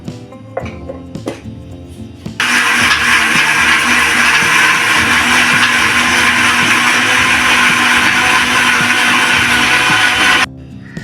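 A mixer grinder roars loudly and steadily for several seconds while grinding idli batter with a little water, starting abruptly after a few quiet kitchen sounds and cutting off near the end.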